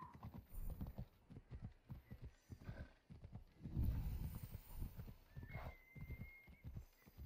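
A horse trots in the video game Assassin's Creed Odyssey, steady rhythmic hoof clip-clops close by with a brief whinny partway through, all fairly quiet.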